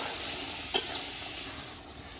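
A pressure cooker boiling elephant foot yam over a village stove releases a steady, loud steam hiss that holds strong, then fades and drops off near the end.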